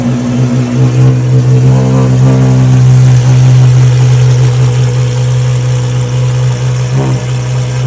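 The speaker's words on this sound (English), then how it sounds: "an MC12 Corsa, which actually did just start up a few minutes ago" Maserati MC12 Corsa engine running loud and close, a deep steady idle with brief rev blips near the end, heard at a Paris classic car event.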